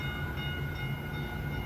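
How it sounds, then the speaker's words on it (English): A Caltrain Stadler electric multiple-unit train rolls into Hillsdale station with a steady low rumble and a faint high whine, continuous and fairly close, no voices. "Here it comes, going to Tamian."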